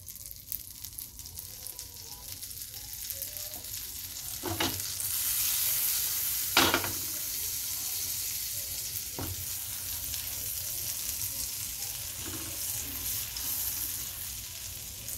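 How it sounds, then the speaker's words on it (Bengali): Burger bun halves toast in butter in a hot pan, giving a steady, soft sizzle with a few sharp clicks and scrapes from a utensil. Nobody speaks. "দু সাইডটা আমি একটু সেঁকে নিলাম বাটার দিয়ে।"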